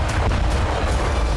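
Continuous heavy rumbling blasts and booms from attacks on Russian territory, a dense, loud wall of low explosive thunder with no pause across the short stretch.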